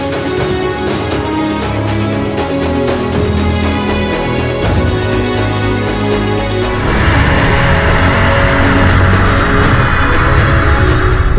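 Turbocharged engine of a light Fiat 124 Spider accelerating, a steady close engine drone that swells louder partway through as the throttle opens, with no talking.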